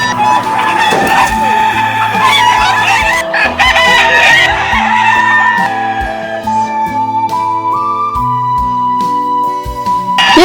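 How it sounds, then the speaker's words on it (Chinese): Free-range native roosters and chickens on a rural chicken farm in northern Shaanxi, crowing and clucking loudly and continuously, with overlapping bird calls and some background noise throughout. "亮亮儿子，把大一点的老公鸡都带上。"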